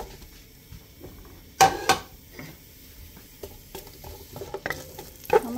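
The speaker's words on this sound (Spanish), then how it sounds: "Puse un poquito de aceite de olivo para freír la cebolla" Sliced white onion frying in olive oil for nopales in red chile sauce, a soft continuous sizzle punctuated by sharp utensil knocks and scrapes against the pan, close by and without speech.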